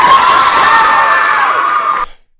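A crowd at a college campus event cheers and shouts in a loud, dense burst that cuts off abruptly after about two seconds.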